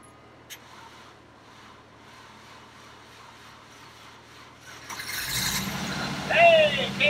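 A Land Rover Defender 90 with a suspected bad fan clutch cranks and its engine catches halfway through, rising to a loud rough idle after a quiet stretch.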